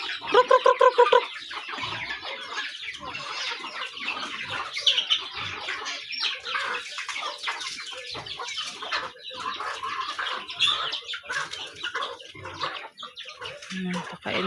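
Backyard chickens and chicks cluck and peep during feeding. The calls are busy and overlapping and sit close. A few loud calls come early, and a voice briefly speaks.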